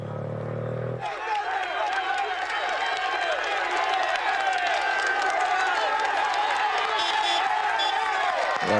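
A roadside crowd cheers and applauds loudly and steadily as the race leader rides up a climb on stage 7 of the 2013 Tour de France, the dense roar of voices staying close and constant throughout.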